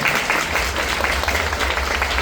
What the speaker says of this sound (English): it deserves a round of applause again